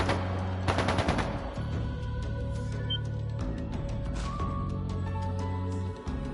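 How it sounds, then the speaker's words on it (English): Bursts of rapid gunfire and scattered single shots crackle over a low, steady musical drone in the Trails of Cold Steel 2 video game, fairly quiet overall. "That sounded like gunfire."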